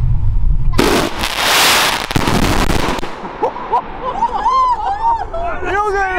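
An El Gato Terremoto firework battery firing 50 shots in one second, a dense loud crackling burst of rapid bangs, then a crowd cheering and shouting with whistles afterward.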